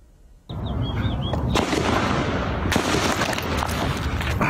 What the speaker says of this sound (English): This new video capturing the shooting on camera. You can hear the gunshots.